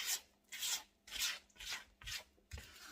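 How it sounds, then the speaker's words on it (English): A spatula scrapes lemon pound cake batter around a mixing bowl in five or six even, rhythmic strokes, soft and close with a gritty rasping texture, no voices. "I'm going to scrape down to the bottom, make sure I've got everything incorporated"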